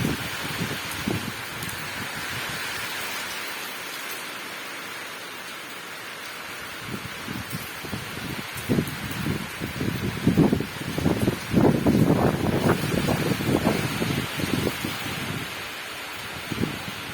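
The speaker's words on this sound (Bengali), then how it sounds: "প্রচণ্ড বৃষ্টি হচ্ছে।" Heavy rain with wind pours down in a continuous hissing wash, drops pattering on surfaces and growing denser and louder toward the middle before easing slightly, near and steady throughout.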